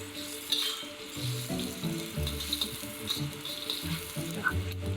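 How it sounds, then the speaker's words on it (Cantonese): Sliced ginger fries in a modest amount of oil for ginger and scallion crab in a home kitchen, giving a steady close sizzle with light stirring noises and no talk. "煎到啲薑咧出晒味啦"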